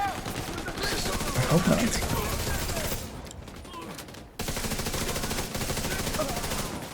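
AK rifle fire in a video game crackles in a steady, dense stream of rapid shots, loud and continuous, briefly dropping off for about a second before resuming, while a voice speaks quietly over it.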